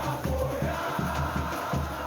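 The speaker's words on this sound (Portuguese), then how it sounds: "a torcida rubranil fez aquela festa clássica na chegada da delegação" Marcílio Dias supporters roar and chant in a dense, sustained crowd noise as the club's team delegation arrives, with a steady pulsing rhythm running through the din.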